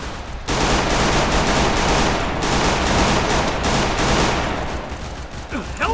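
Sustained bursts of automatic gunfire fill a video game match after a brief quiet start, rattling densely and loudly for several seconds before easing slightly at the end.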